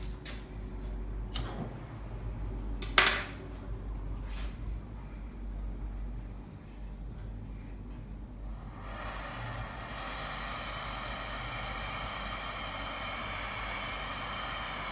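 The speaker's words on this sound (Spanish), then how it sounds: "Vamos a prender el soplete." A gas welding torch is lit amid a few clanks of handling, and after a moment its steady, broad hiss of burning flame swells and holds loud, close up.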